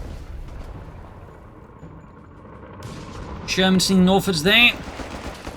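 Tank guns fire during a Company of Heroes 3 battle as an M18 Hellcat engages German Panzers, several loud bursts clustered together over steady battlefield din while someone commentates.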